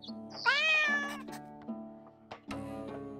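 A cat in the video game Drova lets out one loud, drawn-out meow up close, followed by a few softer, brief sounds.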